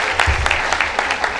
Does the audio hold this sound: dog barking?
no